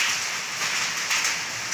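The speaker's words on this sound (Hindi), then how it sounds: "ये आप जो आवाज़ सुन रहे हो साथियों, ये पत्थर हैं छोटे छोटे बर्फ़ के जो गिर रहे हैं उसकी आवाज़ आ रही है" Small hailstones fall with rain on a road, a dense, steady hiss of pattering impacts, loud and close, with a few slightly stronger bursts of clatter and no talking.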